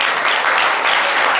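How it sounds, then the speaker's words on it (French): Loud, full applause from a crowd at a live show, a dense continuous roar of clapping close by with no gaps. "on peut l'applaudir très très fort."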